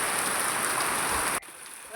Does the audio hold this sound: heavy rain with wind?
yes